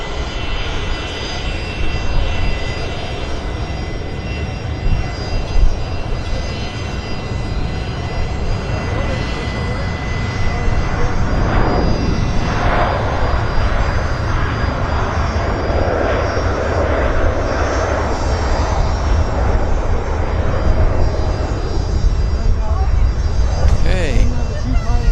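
Aircraft engines roar steadily at Vancouver Airport on a windy day, a loud continuous drone that swells slightly midway as a plane passes fairly close.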